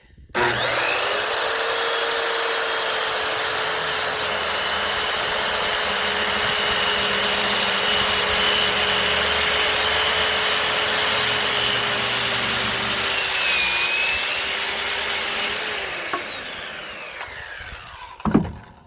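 A loud power tool whines continuously through a metal cattle panel for about fifteen seconds, steady and close, then spins down and stops with a final clack.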